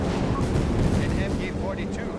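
Rocket strikes explode in the World War II strategy game Company of Heroes 3, a dense cluster of booming, crackling blasts under a commentator's voice.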